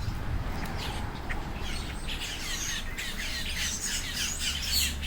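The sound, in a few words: birds squawking at Everglades Safari Park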